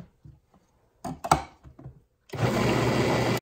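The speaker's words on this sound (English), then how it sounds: "let's blend this baby up again" Blender whirring through a poblano crema sauce, starting abruptly after a few short knocks and handling sounds, then running loud, steady and close to the end.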